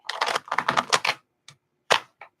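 Tarot cards are shuffled close by in a quick burst of riffling clicks and flutters, then a pause and a few separate card snaps and taps.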